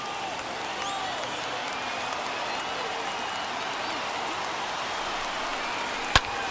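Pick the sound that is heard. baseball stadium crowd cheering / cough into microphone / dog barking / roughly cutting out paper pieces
baseball stadium crowd cheering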